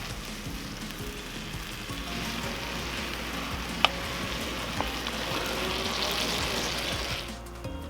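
A chili sauce of mustard, ketchup and tomato sauce bubbles on a Weber kettle grill, a steady close sizzle and hiss that swells slightly, with one or two faint clicks partway through before it tapers off at the end.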